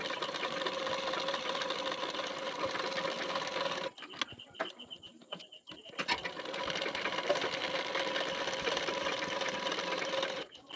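A sewing machine stitches blouse pieces with a fast, steady whir, pauses briefly with a few ticking clicks, then resumes its close, even running hum.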